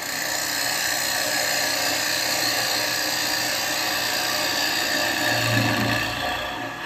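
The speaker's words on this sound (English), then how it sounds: "Now let's see how the 12mm negative rake is." A 12mm negative rake carbide tool cutting wood on a spinning lathe, a steady loud whirring drone with a continuous high whine, close and unbroken, swelling slightly near the end.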